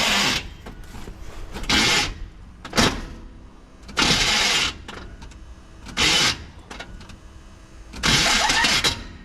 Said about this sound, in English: Just gotta keep cranking it until it turns it over.